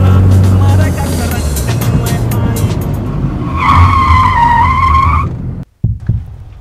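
A car speeds away with tires skidding and squealing loudly, a long rising screech under engine roar, ending abruptly; a voice is heard near the start.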